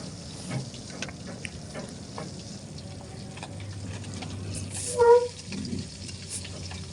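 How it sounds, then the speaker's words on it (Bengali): Small koi fish fry in hot oil with a soft, steady sizzle and crackle, interrupted by a brief louder stir or splash partway through. "তো আমি প্রথমে মাছগুলোকে ভেজে নিচ্ছি।"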